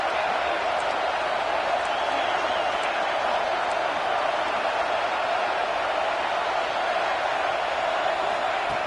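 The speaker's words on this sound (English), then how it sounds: "And here comes the noise. This crowd is trying to inspire this defense to make a big red zone stop." Stadium crowd noise in a college football video game matchup between Texas and Penn State, a dense, unbroken roar held at steady volume throughout, with no clear individual cheers.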